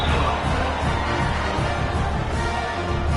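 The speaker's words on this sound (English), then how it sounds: "this crowd is buzzing after that last score" Stadium crowd at a Georgia State football game buzzing after a touchdown, a dense, steady roar of many distant voices that holds level throughout, with no distinct cheers standing out.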